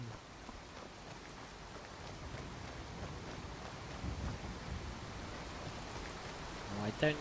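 Heavy rain and strong wind in the video game Skyrim make a steady, faint hiss of downpour that swells slightly, with a few sharper taps near the end.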